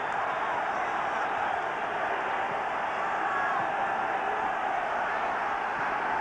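A pent-up football crowd at the Den for Millwall v Birmingham makes a steady, broad roar of distant voices. It holds at a constant level throughout, with a commentator talking over it.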